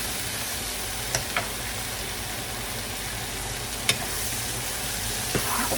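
Shrimp frying in a pan over medium-high heat, a steady close sizzle with a few sharp clinks of a utensil against the pan and no voices.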